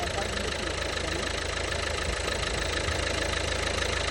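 Engine of a high-mileage Nissan Sunny with a smoke problem idles, a steady close rumble with a light knocking texture that holds level throughout.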